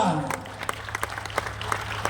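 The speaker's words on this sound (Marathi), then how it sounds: "टाळ्या वाजवा" Scattered clapping from an audience at a kirtan devotional gathering, a few sharp claps over a low murmur, fairly thin rather than a full ovation.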